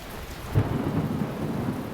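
Rain and thunder in The Talos Principle VR video game, a deep rolling thunder rumble swelling over steady rain, close and continuous with no voices.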